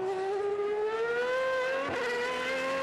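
A Superleague Formula race car drives into a right-hand turn, its loud, high engine whine holding steady and sliding slightly in pitch, with a short tire scrub near the end, close and continuous.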